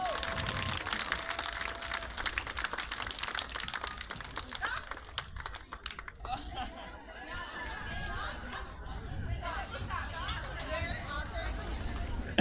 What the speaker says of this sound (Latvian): Aplausi Zuleikai!